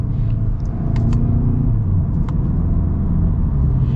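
A 2023 VW Golf GTI driving in manual mode, its engine a loud steady rumble from inside the cabin with brief higher blips during the gear shifts, no one talking.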